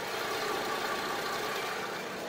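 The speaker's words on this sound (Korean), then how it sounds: "V6 엔진 쓰는 차량이고 엔진 소음 이 차량도 굉장히 좋아요." A Daewoo Veritas V6 engine idles steadily with the bonnet open, a smooth, even, broadband hum heard close up with no talking.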